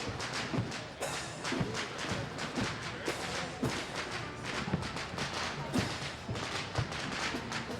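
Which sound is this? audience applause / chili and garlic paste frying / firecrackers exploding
firecrackers exploding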